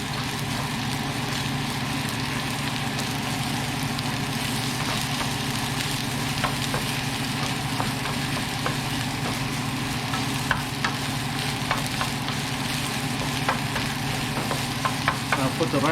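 Eggs being stirred into Thai fried rice with shrimps in a hot pan, a loud continuous sizzle with steady scraping and stirring close by, no voices.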